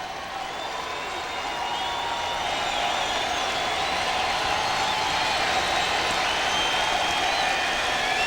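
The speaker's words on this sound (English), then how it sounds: "Crowd gets back into it." Baseball stadium crowd at a Yankees–Braves game in 1999, a steady, dense roar of cheering and applause that swells slightly and holds throughout, distant and continuous with no clear talk over it.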